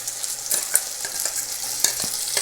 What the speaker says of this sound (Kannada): ಮಸಾಲೆ ಸ್ವಲ್ಪ ಎಣ್ಣೆಯಲ್ಲಿ ಫ್ರೈ ಮಾಡೋಣ